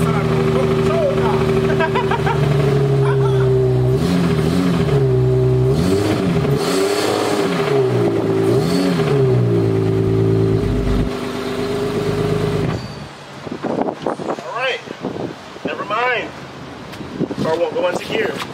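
An Infiniti G35 coupe engine runs and revs in a garage, rising and falling through several loud revs before dropping off, with people talking close by.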